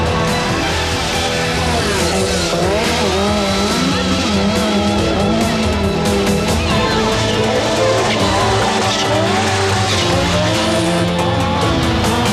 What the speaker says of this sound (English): Left foot braking to turn the car, as Walter Röhrl demonstrates here.